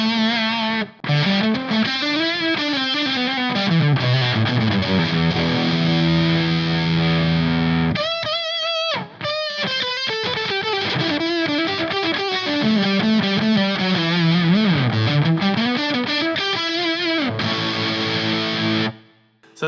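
An electric guitar runs through a HeadRush fuzz effect into a clean amp at full volume. Heavily distorted, loud bending and sliding notes ring out continuously, broken by a few short choppy stabs and a sharp cutoff at the end.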